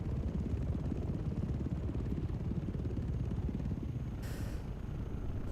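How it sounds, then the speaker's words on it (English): Steady low rhythmic thumping drone like a helicopter, heard in the iRacing racing game during a rain update session near a pace car, continuous and fairly loud with a brief hiss burst near the end. "it's the same sort of helicopter sound"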